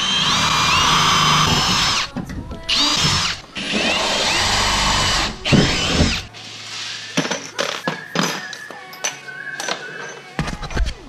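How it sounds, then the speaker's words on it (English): A power drill re-drills holes in a 2017 Ford F-150 during a CNG bi-fuel conversion, sounding in loud whirring bursts with short pauses, followed by scattered clicks and handling noises. "So what we're gonna do here is re-drill, same thing."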